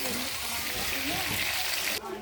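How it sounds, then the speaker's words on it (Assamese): Potatoes for a chicken curry frying in hot oil in a home kitchen, a steady close sizzle and crackle that holds evenly and then drops a little near the end. "এইফালে মই মাংসৰ কাৰণে আলুখিনি ভাজি আছোঁ"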